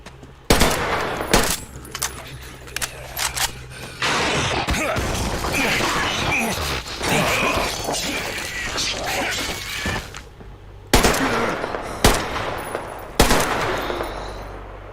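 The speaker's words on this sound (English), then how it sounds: "I do tend to think that the loud bangs of the gun are probably drawing a lot of attention too." Gunfire from a Metro: Exodus firefight, with loud sharp bangs in bursts near the start and again toward the end and steady gameplay noise between them. A voice can be heard faintly.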